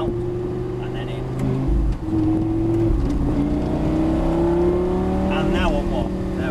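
A car is driven hard on a track during a driving experience day. Its engine drones loud and close, with the pitch rising steadily as it accelerates, and a voice is faintly present beneath it.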